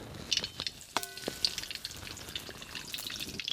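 Whole cumin seeds sizzle in hot oil with mustard seeds already in the pan, a steady crackling fry with small pops and spits throughout, close and moderately loud.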